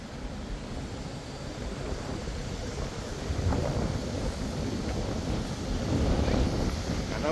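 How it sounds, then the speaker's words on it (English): Strong wind buffeting the microphone on Vandam Street in New York City, a continuous low rumbling gusty roar that grows stronger in the second half, with faint street noise beneath. "it's getting really windy, man"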